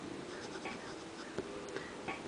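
Medium nib of a Lamy LX fountain pen scratching lightly across paper, a soft continuous rasp broken by a few faint tapping strokes, close and quiet.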